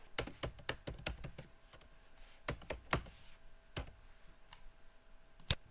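Someone types on a computer keyboard, with crisp key clicks arriving in quick bursts and separate taps, close and clear against a quiet background.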